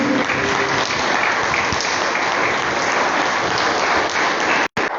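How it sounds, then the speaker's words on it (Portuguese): A church congregation claps loudly and steadily for several seconds, a dense wash of applause that cuts out briefly near the end. "glorificar o nome do Senhor Jesus, igreja, com as suas palmas"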